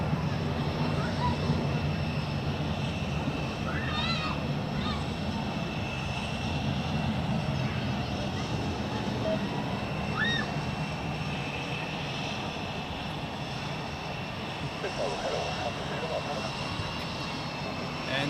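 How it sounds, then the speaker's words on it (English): An older Airbus A319 airliner, delivered in 1997, is pushed back from a gate at Zurich Airport, heard as a steady, continuous roar of aircraft engines and airport background noise, with faint voices underneath. "And here it gets pushed back from the gate."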